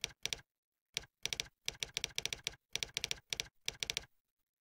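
Someone types a database path on a computer keyboard in short bursts of crisp, close key clicks, with brief pauses between the groups of keystrokes.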